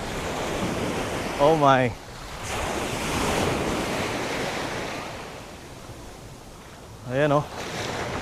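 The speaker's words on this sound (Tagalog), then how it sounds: "Ito na yung waves ngayon sa Boracay" Ocean waves rolling onto the beach at Boracay Station 3 with strong current, a continuous rushing surf with wind buffeting the microphone, and two brief spoken exclamations over it.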